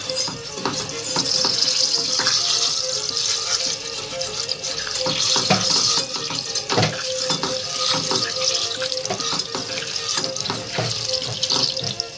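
Water pours and splashes into a pan with melted butter while making kuymak, a continuous rushing flow mixed with faint sizzling and occasional clinks.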